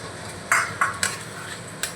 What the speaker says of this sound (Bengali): মিশিয়ে নেব গুঁড়ো মশলাগুলো দিয়ে